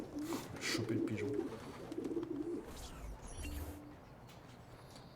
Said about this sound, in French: Choper le pigeon.